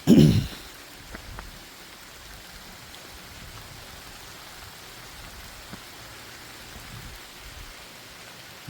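Warm rain falling outdoors near trees, a steady soft hiss of drops with no break, fairly faint and even, with a brief louder thump at the very start.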